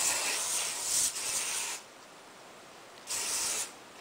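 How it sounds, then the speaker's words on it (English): Hairspray hisses onto freshly curled hair as an updo is finished: one long close burst of about two seconds, a pause, then a second shorter spritz. "make sure you spray it"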